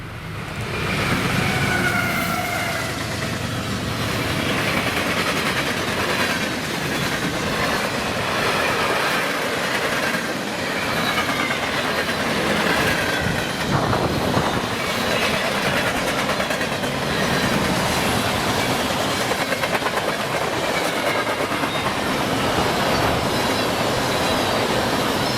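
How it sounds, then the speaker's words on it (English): A CSX freight train led by an EMD ST70AH locomotive rolls past nearby, a loud sustained rumble of wagons with squealing wheels and rhythmic clicking rail joints for the whole stretch, no talk. "Now let's watch as this train passes our cameras."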